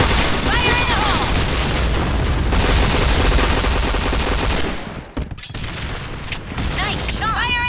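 Sustained automatic gunfire and booming blasts from a grenade in the Point Blank shooter game, loud and dense for about five seconds, then a brief lull before more shots return.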